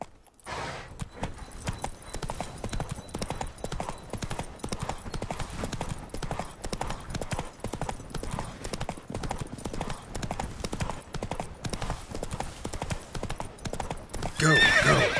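Horse in the Witcher 3 video game galloping with rapid, rhythmic hoofbeats that run continuously and loudly, ending in a sharp neigh near the close.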